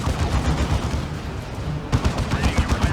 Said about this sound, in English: I guess all the Gits and the tank are always shooting that lead Terminator